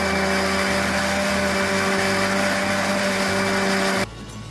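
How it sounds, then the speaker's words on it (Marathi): A kitchen mixer grinder whirs loudly and steadily while blending fresh coconut chutney with a little added water, then cuts off abruptly near the end, leaving a low hum. "आता यामध्ये थोडंसं पाणी टाकायचं आणि पुन्हा एकदा मिक्सर लावून घ्यायचं"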